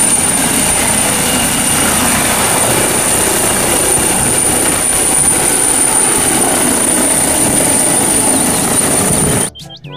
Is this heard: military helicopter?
yes